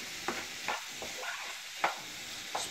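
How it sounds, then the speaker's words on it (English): Butter garlic corn being stirred in a pan with spicy Szechuan sauce, a soft steady sizzle punctuated by a few light stirring scrapes, close and fairly quiet, with no talking. "just give it a nice stir"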